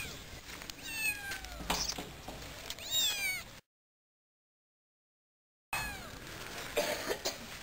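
A cat and kitten meow in several drawn-out, rising and falling cries, fairly close, over outdoor background noise, with a full silent gap in the middle and more meows after it.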